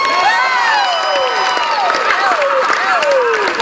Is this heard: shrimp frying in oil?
no